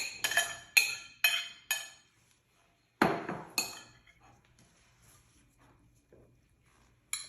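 Vegetables for fattoush tipped into a big bowl: a run of sharp clattering knocks and clinks of produce and utensil against the bowl, a louder jumbled tumble midway, then quiet with faint taps and a last clink.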